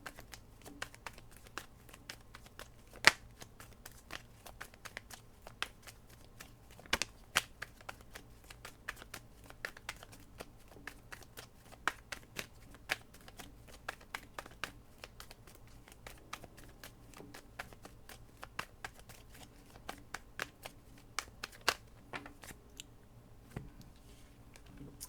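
Soft, rapid crinkling and flicking of tarot cards being shuffled, with scattered sharp ticks over a faint steady hum, close and quiet, no voices.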